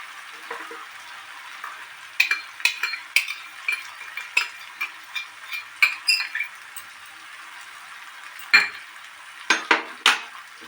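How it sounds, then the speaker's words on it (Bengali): Spice masala being sautéed with tomato paste in a pan, heard as a steady faint sizzle under repeated sharp scrapes and clinks of a spatula against the metal pan, with no voices. "মশলাটা কষাতে কষাতেই আমি এর মধ্যে টমেটো পেস্টটা দিয়ে দেবো"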